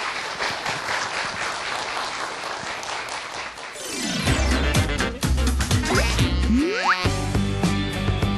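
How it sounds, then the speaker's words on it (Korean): Audience applause at a mathematics education lecture in Gwangju as a professor is introduced, dense clapping swelling up loud partway through and continuing steadily, with some music-like tones mixed in. "박수 주세요"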